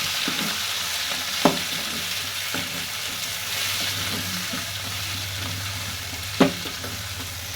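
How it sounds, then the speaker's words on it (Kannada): Onion and tomato fry in oil in a pan, a continuous close sizzle broken by two sharp spatula knocks against the pan. "ಟೊಮೆಟೊ ಹಣ್ಣನ್ನು ಸ್ವಲ್ಪ ಮೆತ್ತಗಾಗಲಿ ರೀ ಎಣ್ಣೆ ಒಳಗೆ ಸ್ವಲ್ಪ ಫ್ರೈ ಆಗಬೇಕು"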